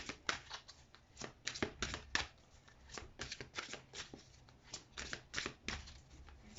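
Tarot cards are shuffled and drawn for a cross spread in a quiet room, producing a rapid run of crisp riffling and flicking card sounds, close and soft, with no speech.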